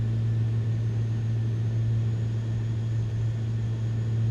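A steady, unbroken drone of Airbus propeller-plane engines at max continuous thrust in Microsoft Flight Simulator, with a strong low hum and a broad airy wash. No voices.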